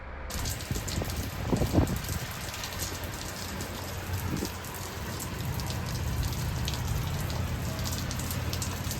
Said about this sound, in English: we'll wait till this sun shower goes away